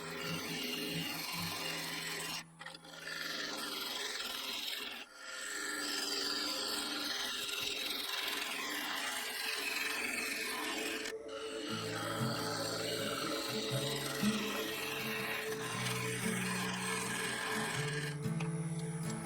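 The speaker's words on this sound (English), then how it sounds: "working from the rim down into the centre, the gouge had no problem removing the waste material" A bowl gouge hollows a wood and resin bowl cast with oak on a lathe, a continuous close rasping cut with the motor's hum beneath and brief pauses as the tool lifts away.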